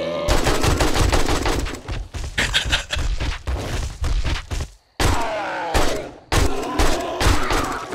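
AK rifle fire in the zombie survival video game 7 Days To Die, loud and close, sounding as repeated bursts of rapid automatic shots separated by brief pauses.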